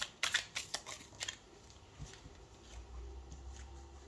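Tarot cards being shuffled, a quick run of crisp riffling flutters at the start followed by softer handling and a low thump, close and quiet with no talking.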